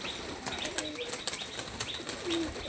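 Andha pigeons flutter and shift nearby, with brief wing flaps and soft chirps or coos scattered over a quiet background.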